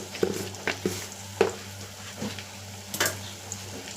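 A spoon stirs turmeric into an onion mixture sautéing in a pan, giving soft scraping strokes and light clinks at an irregular pace over a low, steady sizzle close by.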